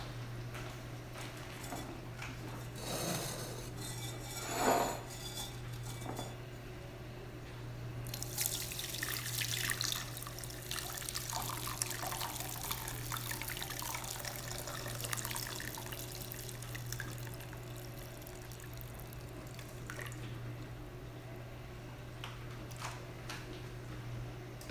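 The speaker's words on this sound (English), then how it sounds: "I'm going to pour this in this" Red cabbage juice is poured into a container, a faint, steady trickling splash with occasional light clinks of dishware, close but quiet and without talk.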